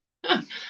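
A single short, sharp sneeze bursts out abruptly after a moment of silence, close and fairly loud, with a breathy tail.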